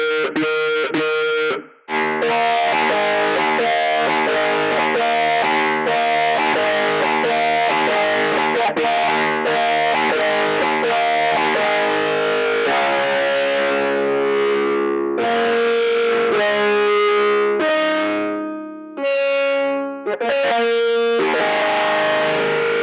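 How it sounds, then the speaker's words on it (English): A fuzz distortion plugin in REAPER, modulated as a touch wah, saturates a played electric guitar with thick, buzzing, sustained chords and short breaks, loud and alone throughout. "It's a beautiful fuzz."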